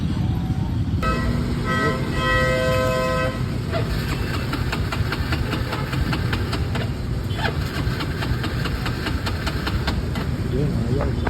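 Nissan Sentra B14 engine cranking and struggling to catch, a loud, continuous starter whir and rough sputter with brief tonal beeps early on and rapid clicking throughout.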